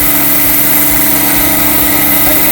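Engine of a radio-controlled scale UH-60 Black Hawk model helicopter in US Army livery on its first flight: a steady, loud, close mechanical drone with constant high whine and low vibration throughout.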